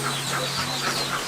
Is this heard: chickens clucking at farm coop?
yes